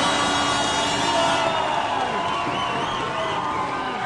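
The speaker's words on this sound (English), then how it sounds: "Crowd getting excited over that slip, Tom." A heavyweight full-contact kickboxing crowd roars and cheers in a continuous, dense din of many voices, loud and steady throughout, with an arena wash behind it.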